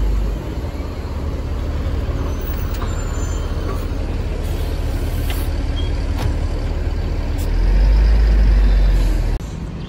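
A sleeper bus from the Kalingga Jaya operator pulls in with a heavy engine rumble, a louder surge near the end and a brief air-brake release, close to the roadside.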